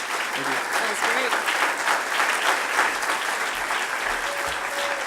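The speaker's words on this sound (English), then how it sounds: "Let's give a really big hand of applause for Ori" Dense clapping from an audience at a youth service, sustained and even throughout, with faint speech mixed in.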